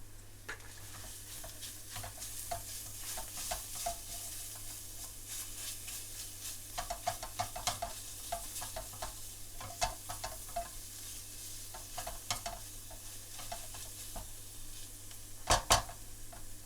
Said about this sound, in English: Add in the salt and fresh chillies as well as the ginger and garlic and fry for 1 minute